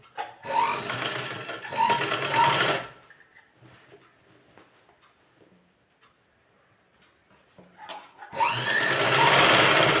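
A sewing machine stitches a ladies' trouser leg in two loud bursts, pauses through a quiet stretch with faint handling clicks, then starts running again near the end.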